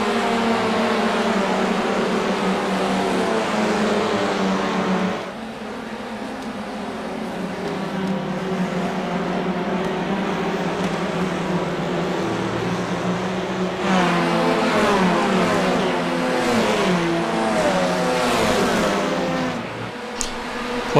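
Audi TCR touring race car in the iRacing sim racing game, its engine droning and revving hard off the start, a steady close mechanical roar with gear-change dips near five and fourteen seconds.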